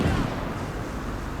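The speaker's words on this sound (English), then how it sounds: "The cannons, the cannon line." A line of cannons fires in the World War II strategy game Gates of Hell, producing a heavy, rumbling boom that starts loud and rolls on as a sustained low roar.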